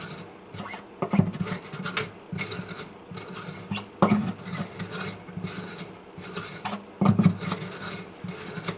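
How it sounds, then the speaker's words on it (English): A hand reamer finishes the peg holes in a Martin guitar's wooden bridge plate, giving close, steady rasping strokes with a few sharper scraping bursts, heard alone. "Just want to come in here and finish things off with the reamer."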